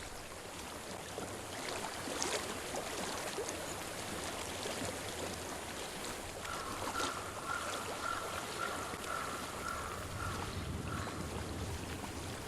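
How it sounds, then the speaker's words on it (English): Steady running water flows through the whole stretch in the video game Hellblade, a soft continuous rush with faint trickling detail, and a brief high tone rings out partway through. "I hear water."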